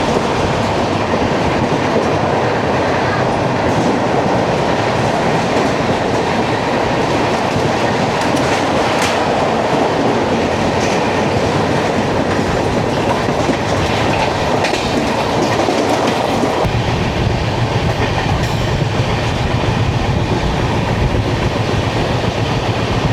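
The 12932 Ahmedabad–Mumbai Central Double Decker Express running near Mumbai, a loud continuous rumble with rhythmic clickety-clack of wheels over rail joints, heard from on board throughout.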